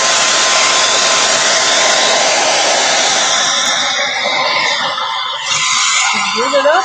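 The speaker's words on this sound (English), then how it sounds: "So I'm going to go ahead and use the hairdryer and get this a little bit" A handheld hair dryer blows loud and steady at close range, drying paint on a purse, and its roar drops and wavers near the end as the dryer shifts or switches off.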